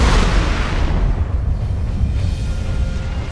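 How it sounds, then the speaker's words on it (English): A big explosion from the nuke gun in the video game Crysis, a loud, deep boom that rolls out and slowly decays into a low rumble, with no talking over it. "That is a big explosion."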